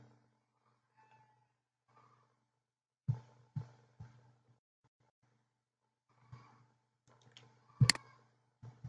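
A computer mouse clicks several times at irregular intervals, sharp close taps separated by quiet gaps, with a cluster of louder clicks near the end.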